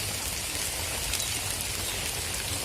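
Heavy rain falls over a village, a loud unbroken wash of pattering drops filling the whole stretch evenly, close and steady with no voices.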